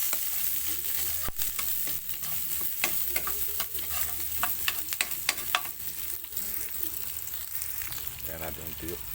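Garlic and onion sautéing in a pan for ginataang sitaw, a constant crackling sizzle with frequent clicks and scrapes of stirring, close up, with a brief voice near the end.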